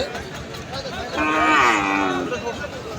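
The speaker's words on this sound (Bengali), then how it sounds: "খুব সুন্দর শাহিওয়াল বাচ্চা" A Sahiwal cow gives one long, drawn-out moo, loud and close, over a steady background hum.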